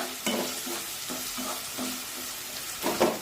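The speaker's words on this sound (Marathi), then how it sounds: "त्यामध्ये बारीक कट करून घेतलेला कांदा टाकूया आणि कांदा छान सोनेरी रंगावर परतून घेऊया" Finely chopped onion sautéing and being stirred in lightly heated oil over a medium flame, with soft sizzling broken by repeated scrapes and stirring strokes at close range, with no talk.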